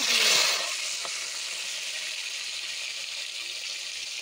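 Prawns hit hot oil with a loud initial hiss that eases into a steady, close sizzle of frying, without talk.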